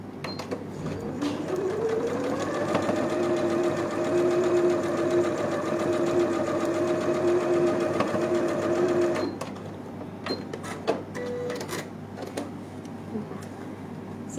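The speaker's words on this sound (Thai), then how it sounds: "ตอนนี้ก็เย็บกดนะคะ" A sewing machine topstitches pieced patchwork fabric in one long, close, steady run of about nine seconds. It stops abruptly, leaving faint handling clicks and room noise.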